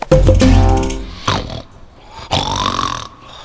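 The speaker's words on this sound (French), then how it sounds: "Quel ronflement." A grizzly bear snoring in a cartoon, three deep rumbling snorts, the first long and loud, the next two shorter with a rising wheeze.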